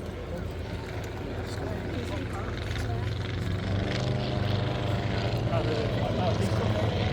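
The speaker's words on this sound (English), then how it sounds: "In comes the yellow and red aeroplane" Druine D.31 Turbulent, a yellow and red light aeroplane, flying past at an airshow, its propeller engine droning and rising steadily in loudness as it approaches, with a voice commentating over it.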